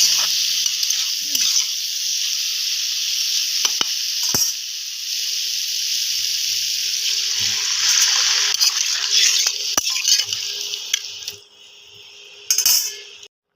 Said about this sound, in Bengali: জল দিয়ে দেবো একটু নেড়ে